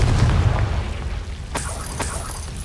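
A Confringo fire spell bursts in Hogwarts Legacy with a deep, loud boom that fades out, followed by two sharper cracks about half a second apart.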